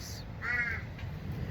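A pet parrot gives one short, harsh squawk over a steady background hum, heard alone and fairly close.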